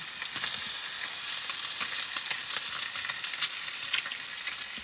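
Roast chicken sears in a hot pan after being flipped, giving a steady close sizzle and crackle with scattered pops.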